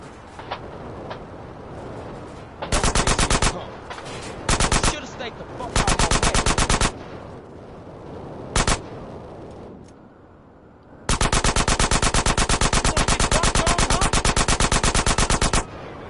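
Rapid automatic gunfire in Grand Theft Auto San Andreas Definitive Edition, heard in loud sustained bursts separated by pauses, with scattered single shots between them and one long final burst.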